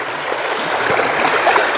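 A river runs beside a campsite at Slim River, Perak, giving a steady, close, full rush of flowing water with no breaks and no voices.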